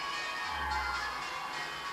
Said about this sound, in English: I'm sure that you can just hear in the background. There we are. I was just about to mention the bells, the belfry